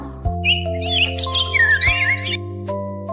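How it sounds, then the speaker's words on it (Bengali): A myna bird calls in a bright, warbling string of chirps and whistles for about two seconds, laid over steady background music. "ময়না পাখি কথা কয়।"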